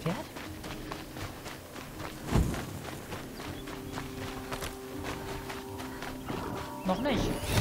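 Hooves clip-clop at a steady trotting pace against a low, droning soundtrack in Horizon Zero Dawn, with a few sharper thuds mixed in.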